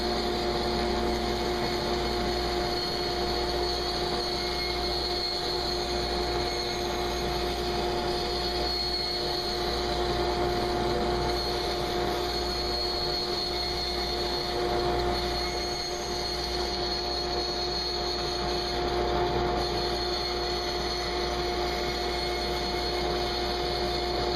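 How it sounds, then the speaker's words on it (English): A bandsaw cuts along a marked line in a wooden board, producing a steady, unbroken mechanical whine and hum at close range for the whole stretch, with no talking. "Then I'll take it over to the bandsaw and start cutting along that line."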